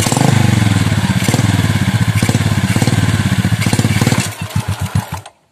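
A Honda Revo Absolute motorcycle with a clutch fault, its engine running loud and close with a rapid chugging pulse, then slowing to a few heavy thumps as it dies.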